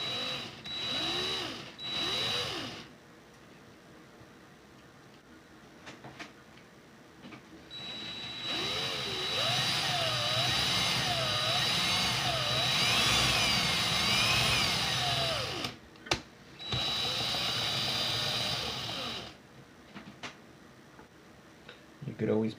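A power drill twisting coil wire whirs in bursts, starting and stopping several times, with a steady whine during the long middle stretch and quiet pauses between.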